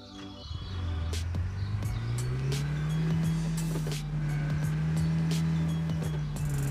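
Car engine in the video game PUBG New State, a steady droning motor rising in pitch and then holding, close and prominent, with light clicks and chirps of other game sounds mixed in.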